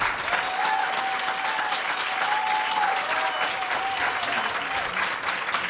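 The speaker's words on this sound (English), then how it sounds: "let's give both our panelists a round of applause for taking the time to answer the questions" A forum audience applauds its panelists after a gun debate, with steady, even clapping throughout and a faint tonal hum in the background.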